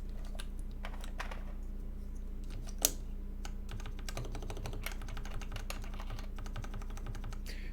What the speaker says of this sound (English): especially the common keys, the keys that are going to be pressed a lot, sound nice